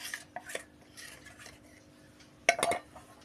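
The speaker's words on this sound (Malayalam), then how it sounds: "ഇതെല്ലാം കൂടെ മിക്സ് ചെയ്തിട്ടാണ് നമ്മൾ പുരട്ടി വെക്കണത്" Utensil clinks and scraping while chilli powder, Kashmiri chilli powder, coriander powder and ground garam masala are mixed into beef for a fry; a few soft taps early, then a brief louder clatter of metal near the end.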